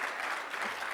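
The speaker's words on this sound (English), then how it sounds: "Huge round of applause for Tarini." A brief burst of steady, dense clapping from an audience applauding Tarini Mohan at the close of an onstage conversation.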